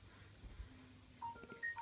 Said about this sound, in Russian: Так, у меня звонит телефон.